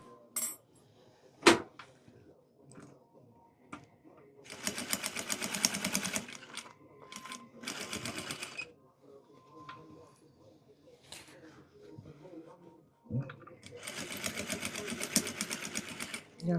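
A sewing machine stitches a homemade clutch bag in three rapid bursts, two short ones and one longer run near the end, close and clear, with quiet pauses and light handling noises between them.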